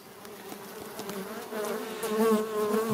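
Calm honeybees buzz steadily in an opened hive during inspection, a close, tonal drone that grows a little louder toward the end, with no talking.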